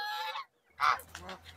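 Domestic geese on a poultry farm honk loudly at close range, a sustained call followed after a short pause by a louder burst of harsh honks.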